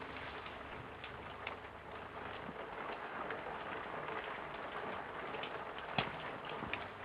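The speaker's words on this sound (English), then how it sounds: "It's only the rain." Steady rain patters softly, a faint continuous hiss with scattered drops and an occasional sharper tap, no voices present.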